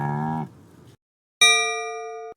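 A cow moos once in a short, low, harmonic bellow, then falls quiet before a bright electronic chime rings and slowly fades, part of a toddler animal-sounds quiz.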